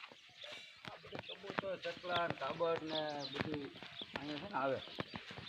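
Pigeons coo repeatedly in soft, overlapping calls, with mynas and sparrows chirping nearby and people talking over them.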